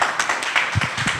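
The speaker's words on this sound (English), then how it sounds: "Tuwapigie makofi tena" An audience at an investment forum gives a short round of applause, many hands clapping in quick, uneven patter across a hall, fairly loud and without speech.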